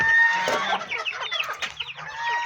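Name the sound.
desi and Aseel chickens clucking on a poultry farm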